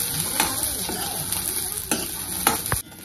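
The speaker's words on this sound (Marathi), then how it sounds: "त्यात मी लसूण टाकून घेतलाय आणि वाटाण्याच्या शेंगा पण ह्याच्यासोबत भाजून घेऊया" Green chillies, garlic and pea pods roasting in hot oil, giving a steady bright sizzle with several scraping stirs of a spoon against the pan, heard up close.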